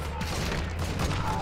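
Rapid gunfire bursts in the video game Call of Duty Modern Warfare II DMZ, a dense continuous volley over a low rumble, with players talking briefly alongside.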